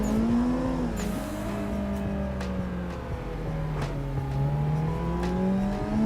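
A car engine revs and roars in the racing game Assetto Corsa during free-roam cruising, rising and falling in pitch through gear changes, loud and steady throughout.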